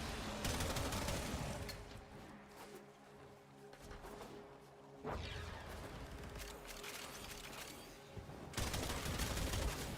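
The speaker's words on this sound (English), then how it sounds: "This is a fun shotgun." Repeated shotgun blasts in the video game Warframe, a loud cluster of shots, a quieter stretch with mechanical clatter, then more heavy firing toward the end, all fairly close.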